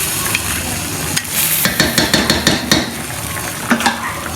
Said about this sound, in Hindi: बस 5-10 मिनट इसको ऐसे भूनेंगे